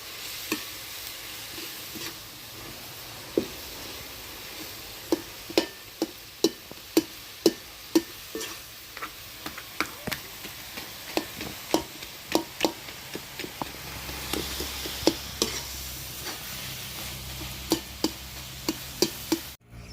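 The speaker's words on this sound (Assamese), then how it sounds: "মছলাখিনি প্ৰায় ভাজিছোঁ" Spices fry in a pan with a low, continuous sizzle under a run of sharp scrapes and taps from stirring, repeating at an uneven rhythm, close by, with no voices.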